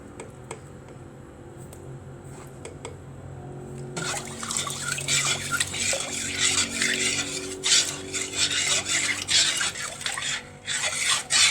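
Metal spoon scraping and clinking around a container of water as salt is dissolved with beetroot for pickling turnips, in a steady stirring rhythm, preceded by quiet room hum.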